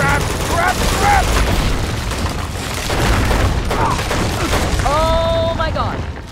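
Bursts of gunfire and booms fill a firefight in the video game Uncharted 2, loud and continuous, mixed with game sound effects and brief shouted voices.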